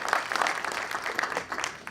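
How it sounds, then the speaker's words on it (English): Brief burst of audience applause at a boxing press conference, a crowd of hands clapping steadily at moderate volume for a couple of seconds. "Please give him a round of applause for one of my favorite fighters, Leo Santa Cruz."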